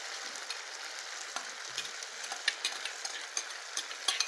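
Ivy gourd and precooked jackfruit seeds stir-frying in a pan, giving a steady close sizzle with scattered small crackles and stirring scrapes throughout, no voices.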